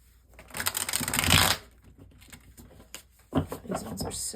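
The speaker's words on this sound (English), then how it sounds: "All right, let me bridge shuffle." A worn, bent deck of tarot cards is bridge shuffled in two bursts, a soft riffling patter that swells, stops, then starts again, with a voice speaking nearby.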